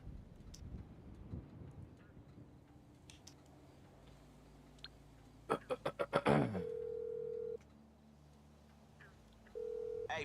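A phone call placed in GTA Online: a quick run of electronic dialing beeps, then a steady ringback tone that pauses and starts again. The ringing is clear and alone, over a faint game background.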